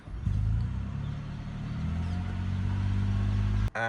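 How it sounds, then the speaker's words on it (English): A car engine runs smoothly after a misfire repair, giving a steady, even low hum close by with no stumbles, cut off by a brief click near the end. "And now the car runs smooth as butter"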